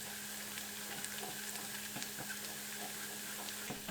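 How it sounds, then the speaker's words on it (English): Sliced shallots fry in oil in a saucepan, a steady dense sizzle with faint clicks and pops throughout, close and even, with no voices. "Fry the shallot, stirring continuously until you start seeing the first bits turn golden."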